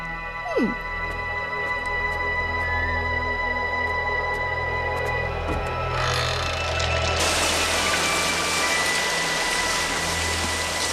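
Rain falls steadily in the background and becomes a louder, denser wash of downpour partway through, over a faint hum, with no talk.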